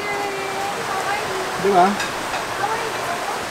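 River rushing past a family campsite in Tanay, a steady broadband wash of flowing water under someone talking.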